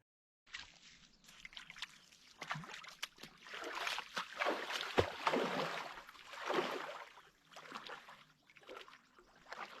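Open-water splashing from a cold early-season swim in a lake beside a campsite: irregular sloshing and churning bursts that swell and fade, close to the microphone, with no voices.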